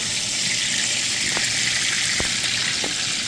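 Keto beef steak tacos fry in butter until crispy, a loud, steady, broadband sizzle with a few faint clicks and pops rising from the pan.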